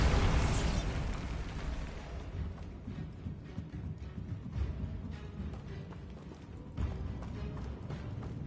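Bombardo explosion spell in Hogwarts Legacy bursting with a loud blast at the start, followed by crackling, rumbling debris and scattered pops that fade and flare again.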